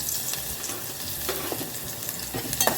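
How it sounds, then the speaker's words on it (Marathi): Garlic sizzles in a little hot oil as a tempering is started in a pan, a steady soft frying hiss broken by a few stirring scrapes and clicks, fairly close. "आता मी फोडणी घालत आहे लसूण टाकते फोडणीला"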